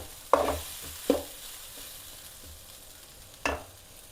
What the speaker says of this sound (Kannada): ಇದು ಸ್ವಲ್ಪ ಚೆನ್ನಾಗಿ ಫ್ರೈ ಆಗಬೇಕು.